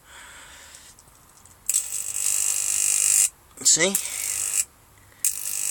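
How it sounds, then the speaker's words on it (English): High-voltage electric arc drawn from a 9,000-volt neon sign transformer, a loud steady buzzing hiss that cuts in and out in bursts, with someone speaking briefly between them. "Oh dear, that's a good arc"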